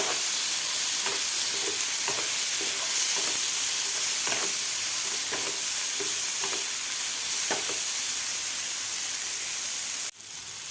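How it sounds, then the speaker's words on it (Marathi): Tomato and spice masala fries in a pan under a steady, strong sizzle, with regular soft stirring scrapes repeating through it and a brief knock near the end. "टोमॅटो आपल्याला सॉफ्ट होईपर्यंत हा मसाला भाजून घ्यायचा आहे"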